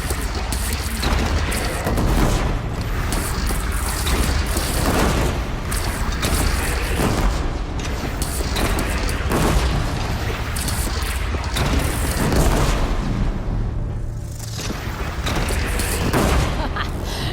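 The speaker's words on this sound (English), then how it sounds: "They only have one cannon!" Repeated heavy cannon booms and dense gunfire-like blasts from a Horizon Zero Dawn battle, loud and continuous with little letup, layered over a thick rumbling game soundscape.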